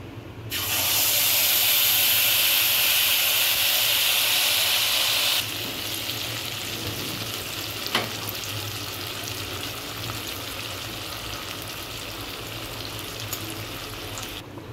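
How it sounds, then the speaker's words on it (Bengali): Poppy seed and mustard paste tipped into hot mustard oil with a dried red chilli in a kadai gives a loud, close sizzling burst lasting about five seconds, then settles into a softer, steady frying hiss. "এবার আমি এই পোস্ত সর্ষে এগুলোকে ঢেলে দেবো।"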